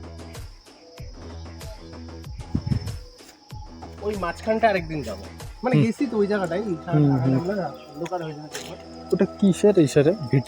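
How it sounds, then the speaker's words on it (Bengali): Crickets chirp in a steady, continuous high trill along a path through trees in a waterlogged spot as darkness falls, running beneath nearly constant nearby conversation and footsteps. "খালি ঝিঝি পোকার ডাক শোনা যাচ্ছে।"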